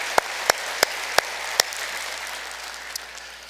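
A handful of sharp, separate claps ring out at a Sunday church service, about five in quick succession, then the hall falls to a soft room hush with one faint clap later.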